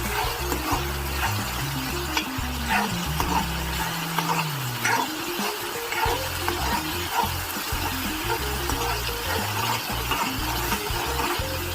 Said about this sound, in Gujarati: હવે ડુંગળી જ્યાં લગી ગોલ્ડન બ્રાઉન ના થઈ જાય ત્યાં સુધી આને સાતળવા દઈશ